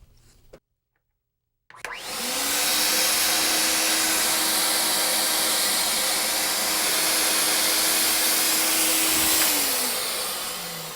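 A motorized fogger starts up after a brief silence and runs with a loud, steady whine and hiss for about eight seconds while it sprays chemical mist into an air return, then begins to wind down.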